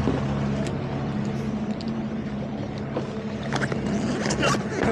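Steady low engine drone from a lightning-damaged 41ft Boston Whaler running on two of its three engines, strong tonal hum, continuous throughout, with water and wind noise on top and brief clatter near the end.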